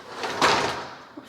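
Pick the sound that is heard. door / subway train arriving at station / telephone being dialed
door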